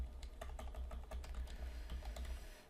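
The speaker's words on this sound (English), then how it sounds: "I'll type my email address in here" Rapid, steady key clicks from a computer keyboard as an email address is entered, close and clear, with a low hum underneath and no talking.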